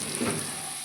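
Turmeric being stirred into sizzling oil in a pan while frying ivy gourd: brief, steady, close frying hiss with a soft stirring scrape, no talk.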